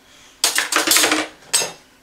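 Dishes being washed by hand: metal cutlery and pots clink and clatter in two close, bright bursts against a quiet background.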